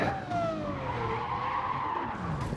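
A Lamborghini Murcielago LP640 spins out on the Nurburgring Nordschleife in Gran Turismo 7, its tires squealing in a long wavering skid that slides down in pitch over the engine's drone.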